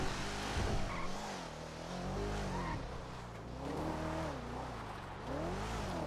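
A Volkswagen Golf engine runs and revs continuously, rising and falling in pitch, loud and close with a rough, busy texture and no voices.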